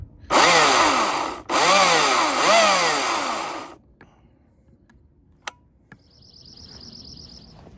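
A Husqvarna 350i battery chainsaw whines at high speed in two close bursts with brief dips and swells, then stops, leaving a few faint clicks and a distant bird call.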